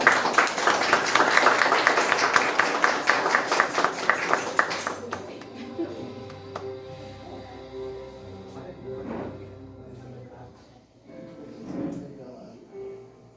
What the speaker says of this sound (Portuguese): E uma salva de palmas para ela.